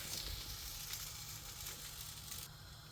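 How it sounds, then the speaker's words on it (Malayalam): An egg frying in hot oil gives a faint, steady sizzle that runs without a break. "എണ്ണ ഒഴിച്ചു മുട്ടയും പതുക്കെ ഒഴിച്ചു"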